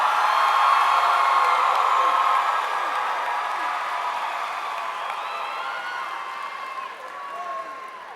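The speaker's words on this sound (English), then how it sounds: "Let's give the class of 2014 a big round of applause" A large crowd cheers and applauds the graduating class of 2014 at a high school commencement, a broad wash of clapping, whoops and shouts that swells early and slowly fades over several seconds.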